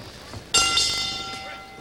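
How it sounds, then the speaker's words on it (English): Boxing round bell at Festival Hall in Melbourne during a light middleweight bout, a single bright ring that starts abruptly and rings on, fairly loud, over a faint crowd murmur. "And a little punch there after the bell from Chris Hamilton"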